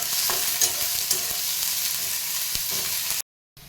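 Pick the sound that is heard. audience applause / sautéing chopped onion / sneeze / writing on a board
sautéing chopped onion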